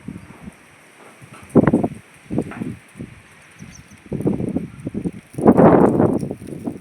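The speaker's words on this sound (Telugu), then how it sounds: "గాలి అయితే బాగా వస్తుందండి" Strong dust-storm wind gusts batter the microphone in uneven rumbling surges, quieter gaps between them and a long heavy gust near the end.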